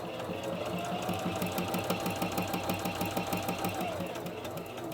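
A Viking Onyx 25 sewing machine stitches fabric in a steady, fast mechanical chatter with an even needle rhythm and a faint motor whine underneath. The machine is close and runs alone for about five seconds without talking.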